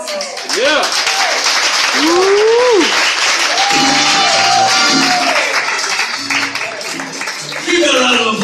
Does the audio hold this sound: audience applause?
yes